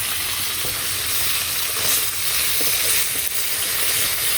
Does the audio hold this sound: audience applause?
no